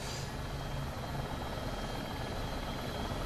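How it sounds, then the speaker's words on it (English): A Dreamfoil AS350 helicopter hovering in the X-Plane flight simulator, a steady, even rotor and turbine drone that holds at a constant level throughout with no talk. "chopper in a hover"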